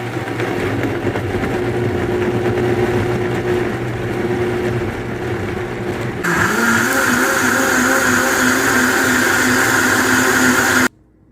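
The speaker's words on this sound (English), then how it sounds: "Now we're going to blend everything and pour it in the pot." Vitamix blender pureeing red pozole sauce, a loud steady motor whine that jumps higher and harsher partway through as the speed rises, then cuts off abruptly at the end.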